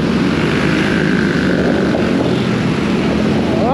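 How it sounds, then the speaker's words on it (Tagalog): Misfiring motorcycle engine straining to pull, a loud constant droning roar with rough uneven texture throughout, close by and without speech. "Palyado na tong motor ko eh."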